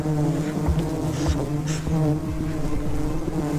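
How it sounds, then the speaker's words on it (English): Dense, steady buzzing of many bees, loud and close, with a constant droning hum throughout. "Oh my gosh, there's so many bees."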